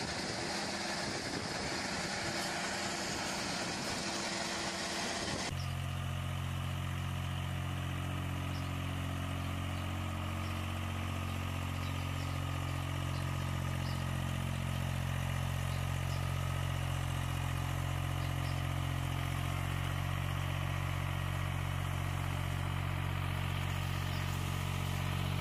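A mini tractor's engine idles steadily for a long stretch, a constant low droning hum with steady harmonics, following a brief noisier start, with no talk.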